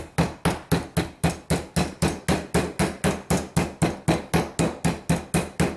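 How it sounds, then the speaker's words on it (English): Rapid, regular hammer blows, about three per second, strike a steak up close to tenderize it; each thud is loud and evenly spaced, with no talking. "But first off, I'm going to hammer it down"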